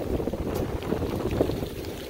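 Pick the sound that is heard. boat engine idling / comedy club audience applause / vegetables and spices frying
boat engine idling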